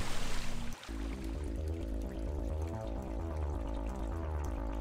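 Continuous flowing water in the video game Rakuen, a steady rushing stream that follows a brief thud near the start and stays loud throughout.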